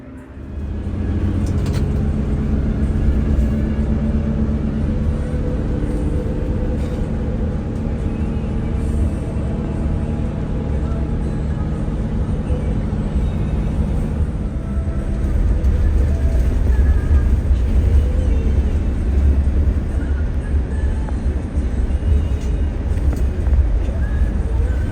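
Steady low engine and road rumble fill the interior of a moving intercity bus on a Jakarta to Malang trip, continuous and loud throughout with no pauses.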